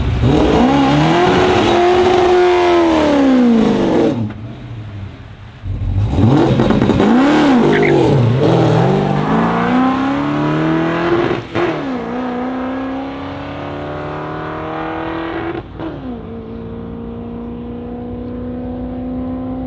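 A no-prep drag race car launches hard down the strip, its engine screaming through rising revs with sharp shifts, loud and close for nearly the whole stretch with no talk over it.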